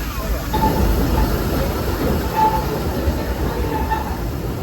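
Steady rumble of a Disneyland amusement park ride train rolling along the track, with faint rhythmic clatter and brief high squeals, continuous throughout.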